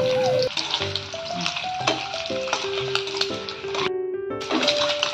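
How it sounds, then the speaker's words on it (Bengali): Eggs sizzle and crackle while frying in a pan, a constant close hiss with small stirring clicks, and a tuneful melody plays over it. "ডিমগুলো ভাজা হয়ে গেছে, আমি ডিমগুলো তুলে নিচ্ছি।"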